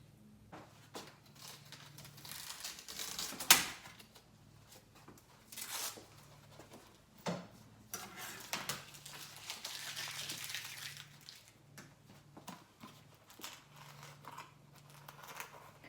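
Painter's tape and a guide angle are pulled off a DIY herringbone wood project, giving faint, scattered crinkling and sticky peeling rasps with a few soft knocks in a quiet room.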